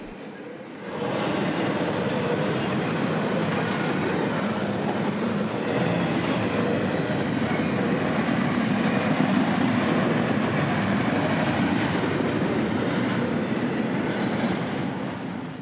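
A southbound freight train passing on a rail line, a steady loud roar of wheels and cars that starts suddenly and holds continuously, close to the tracks.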